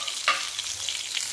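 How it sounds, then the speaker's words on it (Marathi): Brinjal pieces fry in oil in a hot pan over medium to low heat, a soft steady sizzle with one quick stirring scrape, close and fairly quiet. "थोडंसं तेल टाकूया, छानपैकी हे भाजून घेऊया।"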